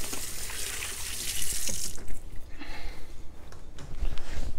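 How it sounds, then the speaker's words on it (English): Tap water running into a sink while hands are washed, a steady close hiss that shifts and softens midway as the hands move under the stream, with no talk. "I'm gonna wash my hands up just a little bit again."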